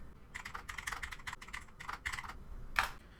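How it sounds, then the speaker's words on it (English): Keys on a computer keyboard clatter in quick, uneven bursts of soft taps, close and fairly quiet, ending with one sharper keystroke, with no voices. "I'll start typing"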